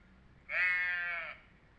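A single drawn-out bleat, clear and close, lasting under a second before fading into quiet.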